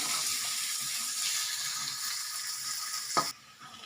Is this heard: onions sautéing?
yes